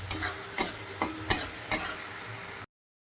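Chili-turmeric spice paste with torn green chilies being stirred and fried in a pan for a brinjal and pabda fish curry: a low sizzle under four or five distinct scraping stirs, close and fairly quiet, with no talking.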